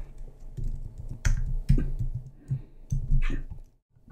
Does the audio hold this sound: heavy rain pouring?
no